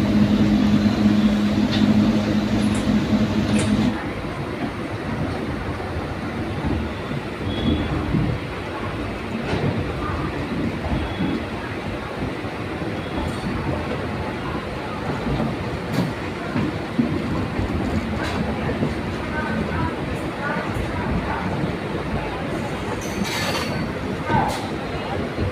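The Krishak Special passenger train runs from Shantipur to Sealdah, heard as a loud, continuous rumble and rattle of wheels and carriages throughout, with occasional faint squeals and clanks.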